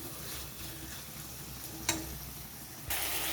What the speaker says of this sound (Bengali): বেশ কয়েকবার নেড়ে চেড়ে নিয়েছি, এখনও কিছুক্ষণ নেড়ে চেড়ে নেব।